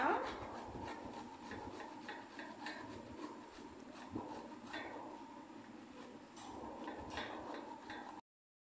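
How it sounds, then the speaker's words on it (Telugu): Peeled beetroot rasps against a kitchen grater in repeated, fairly quiet back-and-forth strokes, with no voices. "ఇక్కడైతే నేను పీల్ తీసేసిన బీట్రూట్ని తీసుకొని తురుముకుంటున్నాను అనమాట."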